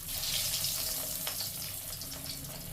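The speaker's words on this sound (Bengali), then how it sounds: "এবারে আমি ফিশ ফিঙ্গারগুলো একটা একটা করে তেলে ছেড়ে দিচ্ছি।" Fish fingers are lowered one by one into hot oil in a pan, giving a continuous bright hiss and crackle of frying that stays steady and fairly close throughout.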